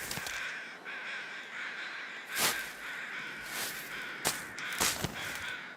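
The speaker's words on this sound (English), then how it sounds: "the crow noises are about to drive me nuts by now" Crows caw repeatedly in the survival game The Long Dark, several sharp calls scattered over a steady windy ambient background, fairly close and loud.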